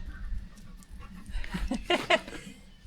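Puppies pant quickly and excitedly before going out for a walk, close and moderately loud, with soft whimpers mixed into the breathing.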